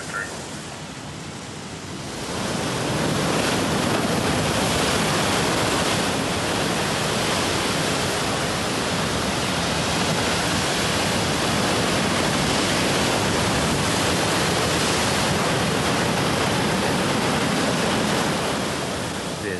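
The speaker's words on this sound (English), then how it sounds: "A half-mile offshore, 20-foot waves are rising up out of the Pacific" Big surf pounding at Waimea Bay on Hawaii's North Shore, 20-foot Pacific waves breaking a half-mile offshore: a dense, continuous roar of crashing water that swells in after a quieter first two seconds and holds steady and loud.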